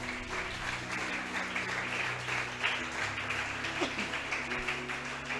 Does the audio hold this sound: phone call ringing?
no